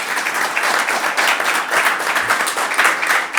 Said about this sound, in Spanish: les damos un nuevo aplauso